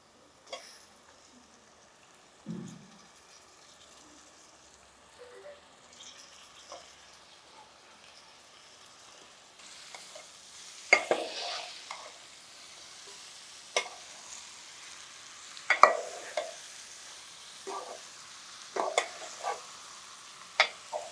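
Chicken pieces added to a pan for a brinjal and chicken curry give a faint, steady sizzle, with occasional light clinks of stirring that grow more frequent in the second half.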